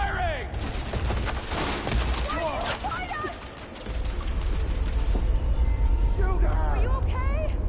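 Gunfire in the video game Horizon Forbidden West: a dense volley of sharp shots and impacts fills the opening seconds, over layered game effects and characters talking, easing briefly before the din resumes.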